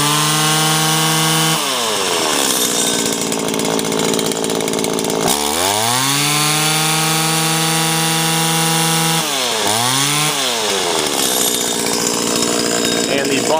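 Stihl FS85 string trimmer engine buzzing loudly up close, repeatedly revving up to a high whine and dropping back toward idle in several surges.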